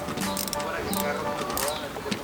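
A long screwdriver works the screws on an E30's steering wheel, giving close, repeated ratcheting clicks and faint metallic turning sounds.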